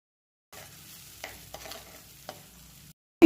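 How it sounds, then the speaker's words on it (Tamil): Thin-sliced onion sautéing in hot oil with spices in a pan, a soft steady sizzle with a few brief stirring scrapes, fairly quiet and close, with no talking. "வெங்காயத்தோட கலர் சேஞ்ச் அளவுக்கு நல்லா வதக்கி விட்டுக்கோங்க."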